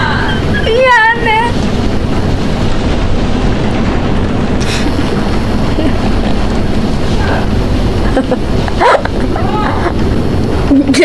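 A dog barks and yips inside the Roblox game, a quick rising-falling series of yelps near the start, heard over steady game noise and background sound.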